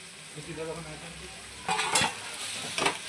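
Meat lands in a hot pan, bringing bursts of loud sizzling after a quieter start, with a second crackling surge near the end and the faint clink of a utensil.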